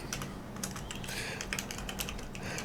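A terminal command is typed on a computer keyboard in a fast, steady run of close, crisp key clicks over a faint background hum.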